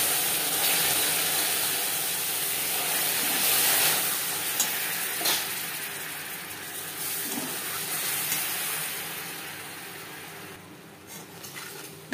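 Sizzling and steaming as a very small splash of water hits hot caramel in a pan over a low gas flame while making kheer doi; a steady hiss that fades slowly over about twelve seconds, with faint stirring and no talk.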